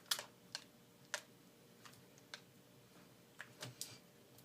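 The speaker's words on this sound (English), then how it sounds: "you should hear a clip noise" Small plastic clicks as the screen connector on an HP Pavilion DV6 laptop clips into place, several faint, sharp, close-up snaps scattered over a few seconds in a quiet room.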